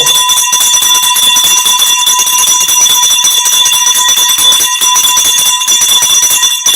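A bell rings loud and steady for several seconds, its bright sustained tones sounding continuously with no voices over it.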